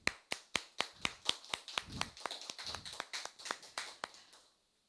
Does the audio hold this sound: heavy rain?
no